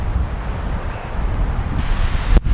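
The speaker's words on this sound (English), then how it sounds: "so windy." Loud, gusty wind at a lakeside campsite roaring across the microphone, a constant low rumble with a sharp buffeting burst near the end.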